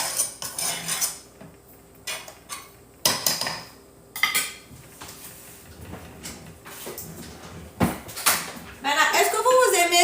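Okra being stirred into a sauce in a pot for Guinean lafiri, with repeated metal utensil scrapes and clanks against the pot, loud bursts between quieter moments, while a person talks over the cooking.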